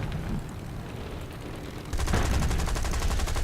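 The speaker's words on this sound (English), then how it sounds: "The bullets zinging past us." Gunfire and bullets in the War Thunder video game: a dense, steady rattle of rapid shots and impacts that steps up sharply in loudness about two seconds in and continues without pause to the end.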